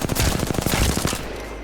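Rapid automatic gunfire in Apex Legends, a burst of about a dozen closely spaced shots over roughly a second, loud and close, then fading.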